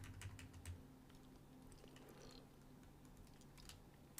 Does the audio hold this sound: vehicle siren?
no